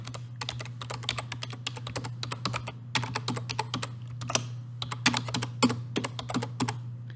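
Typing an email address into a sign-in page on a computer keyboard: quick clicky keystrokes in irregular bursts with short pauses, close and clear over a low steady hum.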